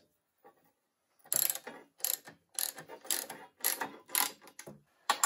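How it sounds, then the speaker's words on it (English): A ratchet wrench turning bolts on a Lycoming O-360 aircraft engine during an overhaul, giving a series of close, crisp bursts of clicking in quick strokes separated by brief pauses after a quiet start. "Get the right wrench on the right socket."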